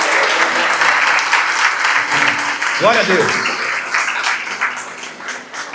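A church congregation claps steadily through a worship service, a dense continuous applause under a voice calling out praise.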